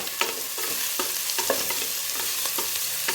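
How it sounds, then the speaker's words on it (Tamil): Chopped onions sautéing in a pan for peas pulao, a steady loud sizzle broken by regular scraping stirs of a spoon, with no voices. "ஸோ இது நல்லா வதங்கணும் வெங்காயம்."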